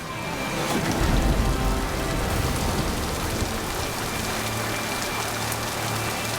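Steady rain in the video game Mass Effect 2 Legendary Edition, a dense, continuous hiss of falling drops with a low rumble underneath, even and unbroken throughout.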